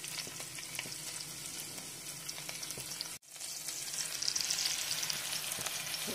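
Garlic, green chillies and curry leaves hit hot tempering oil for Karnataka-style soup vada, giving a steady, close, loud crackling sizzle that dips to near silence for an instant mid-way and then returns even fuller, with no voices.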